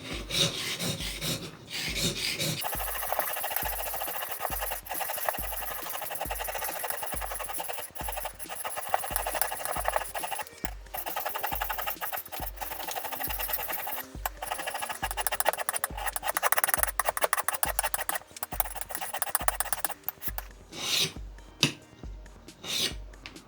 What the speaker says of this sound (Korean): 끌을 갈아봤는데요